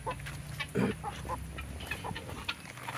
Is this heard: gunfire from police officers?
no